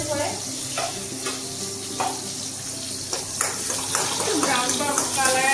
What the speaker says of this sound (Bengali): এটা এখন রসুনটা ছাড়ে দিলাম